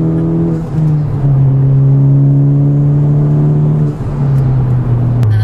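A Subaru BRZ or Honda Civic Type R accelerates past with a loud, steady engine drone that climbs in pitch, dips briefly, then holds strong and close.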